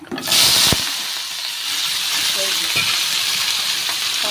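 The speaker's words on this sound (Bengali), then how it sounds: "পাঁচফোড়নটা দিয়ে একটু ভাজা ভাজা করে নেব" Panch phoron spices sizzle and crackle in hot oil, a loud burst of hissing at first that settles into a steady frying sizzle, with a brief clink near the start.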